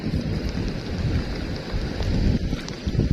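Steady rain pours down outdoors in rural northeastern Thailand during net fishing, a dense, even hiss with low rumbling gusts throughout and no talking.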